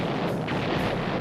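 World War I artillery shell fire as a dense, continuous roar of overlapping blasts and rumbling booms, loud and unbroken, with no distinct gaps between impacts.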